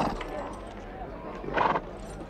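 An Arabian horse, black with a white star, whinnies with a louder neigh near the end, amid a drama scene with speech around it.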